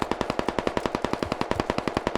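A rapid, steady burst of machine gun fire in the game Squad, about a dozen shots per second, loud and unbroken for a couple of seconds.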